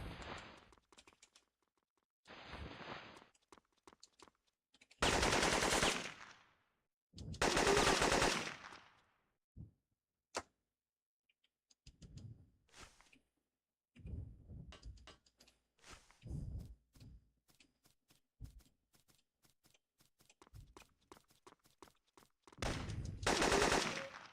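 Bursts of M16 automatic gunfire in the video game Syphon Filter, several loud sustained volleys separated by quieter stretches filled with mechanical clicks and game effects.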